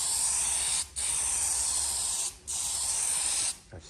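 Three long bursts of spray paint hissing loudly and close as the final coat goes onto a car, each pass separated by a short pause, with no talking.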